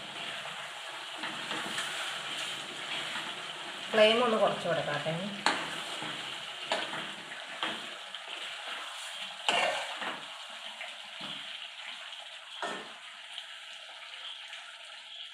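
Beef varattu, a roadside-stall style dry beef curry, stirred in a pan: steady frying sizzle under repeated scraping and clanking strokes of a spoon, with a person briefly speaking over it.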